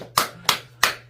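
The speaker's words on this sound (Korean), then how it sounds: "박수." Three sharp hand claps from a group of children at a church youth Sunday service, evenly spaced and fairly close, each a crisp burst with nothing else heard between.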